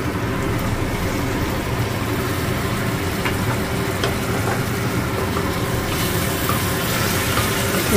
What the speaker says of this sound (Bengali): নাড়ার কাজ চলছে